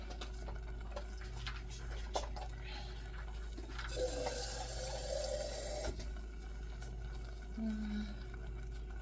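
Water running briefly from a kitchen tap into a cooking mix for a seven-layer dip, a soft splashing pour in the middle amid small clinks and ticks, with a voice speaking.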